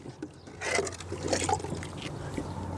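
Water trickles steadily while a dish is rinsed at home, a soft, close liquid patter running for a few seconds with a faint low hum beneath.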